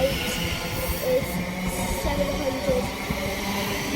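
Thameslink Class 700 trains departing and arriving at West Hampstead, a rumbling rail roar with faint squeals and a low hiss, close and continuous as a voice talks over it.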